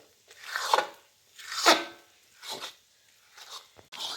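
A spoon scrapes and stirs flour in a pan while roasting it for adadiya, a Gujarati winter sweet, in about five separate rasping strokes with quiet gaps between them.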